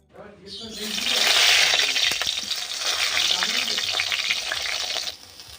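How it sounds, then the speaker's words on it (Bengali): Small fish sizzle loudly in hot oil in a pan, a dense crackling hiss that swells right after they go in and holds steady before easing off at the end. "মাছগুলো ভেজে নিই"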